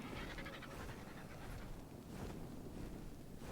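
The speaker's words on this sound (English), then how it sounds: "Oh, Dire Dog sounds really cute as well." A Dire Dog creature in the mobile game ARK pants in quick, breathy rhythmic puffs, close and steady over a noisy, wind-like background with no voices.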